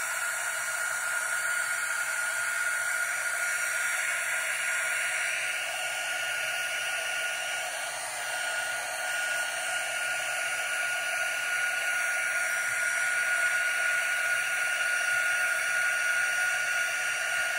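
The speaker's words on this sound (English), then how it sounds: "this heat gun is kind of like a little teeny tiny little hair dryer" A small heat gun blows steadily on a poured acrylic paint surface, a constant close airy hiss like a tiny hair dryer that runs unbroken throughout.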